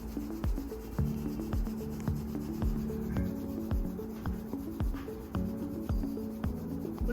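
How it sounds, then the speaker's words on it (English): Palms rubbing together during a beginner yoga session, a continuous close scratchy friction sound with a steady back-and-forth rhythm, heard over a soft sustained musical tone. "Rub your palm."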